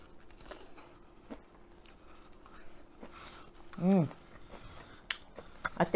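Snow crab from a seafood boil with potatoes and corn being bitten and chewed during a mukbang, giving a few close, faint crunching bites with one louder crack midway, with soft murmurs of enjoyment around it.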